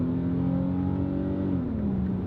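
Infiniti G35 Coupe engine hum heard from inside the cabin, a smooth low drone that shifts slightly downward in pitch near the end.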